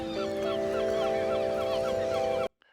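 Seagull cries in a cinematic documentary edit, repeated bright squawking calls over a sustained musical drone, loud and steady before cutting off abruptly.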